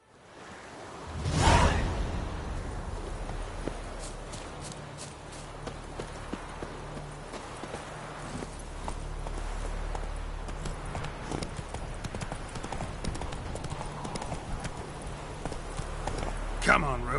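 The horse Roach gallops in The Witcher video game on PS4, its rapid hoof clip-clops rolling steadily along with airy whooshes, a louder swell near the start and voices heard at times.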